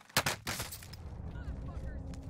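Gunfire from a Cold War-era M16 rifle in the battle royale shooter Call of Duty Warzone, a loud burst of rapid shots up front, then sparser distant shooting under game noise while a player talks.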